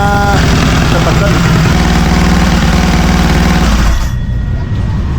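Loud, close idle of a bored-up motorcycle engine with a leaking exhaust, a rough, steady throbbing that drops and thins out near the end.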